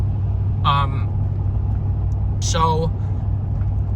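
A Ford truck with a 7.3 gas engine drives along with a steady, loud low rumble and road noise throughout, while someone briefly speaks over it twice.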